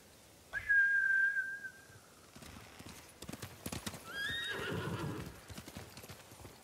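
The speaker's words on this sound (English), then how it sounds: "Bastards scared off the horses." In the Ghost of Tsushima game, a horse whinnies in a rising whistle-like neigh, then hooves clip-clop and a second whinny sounds as the mounts run off, fairly close and clear.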